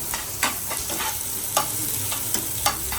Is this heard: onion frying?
yes